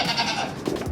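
A goat bleats close by among farm goats at feeding time, a short, wavering cry that fills the moment with no speech over it.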